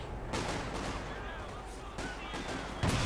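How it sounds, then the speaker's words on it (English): British artillery shells land in a Company of Heroes 2 match, a dense, continuous rumble of explosions and gunfire with heavier blasts at intervals and a loud hit at the close. "The ground quaking with every hit there from British artillery."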